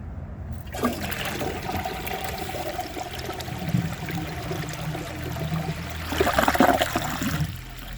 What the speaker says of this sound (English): So let's give this a flush and see how it does on tests.